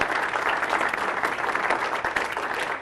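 Audience at a magic show breaks into sustained clapping, a dense steady burst of applause lasting a few seconds.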